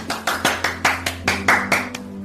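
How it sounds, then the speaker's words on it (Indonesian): About nine evenly spaced hand claps beat in a steady rhythm, sharp and fairly close, over a low constant hum. "Jangan tepuk tangan."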